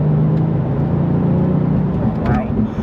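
A Porsche 911 Turbo pulls hard in fourth gear, its engine droning loud and close with a rising whir, while wind and road noise fill the cabin.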